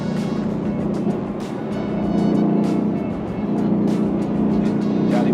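2020 Ford Mustang Shelby GT500 engine drones loud and steady on the move, its note swelling and easing slightly with faint ticks over the rumble.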